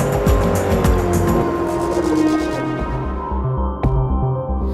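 A Bugatti Veyron races in Forza Motorsport 3, its engine roaring loud and close while tires squeal, the revs climbing and then easing before a sharp gear-change thump near the end.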